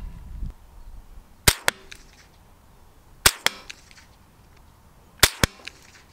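Three 22 Savage rifle shots at a 100-yard range, each a sharp, loud crack followed by a quicker second report, spaced about two seconds apart with quiet between.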